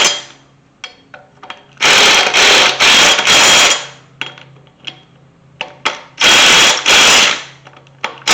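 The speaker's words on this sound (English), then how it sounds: "Just putting a little bit on all the bolts, and then running them in" Bolts dabbed with gel Loctite being run in on a 1991 Chevy C1500 pickup, with loud bursts of a power tool or impact driver in several runs of a second or two, separated by quieter clicks and handling noises.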